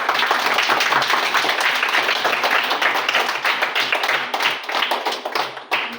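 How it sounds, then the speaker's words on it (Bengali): A crowd of children clapping loudly and continuously at a public gathering in Tripura, a dense steady patter of hands that thins slightly toward the end. "সবাই বাচ্চারা এই অ্যাঙ্কেলের জন্য একটু জোরে হাততালি দাও"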